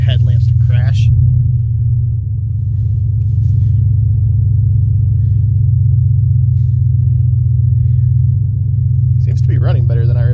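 An old car engine idles in a loud, steady low rumble for the whole stretch, with a voice heard briefly at the start and again at the end.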